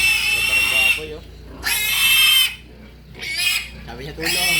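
Pigs at a Philippine pig sale squeal loudly in several long, shrill bursts with grunting between them, close by, while people talk in the background.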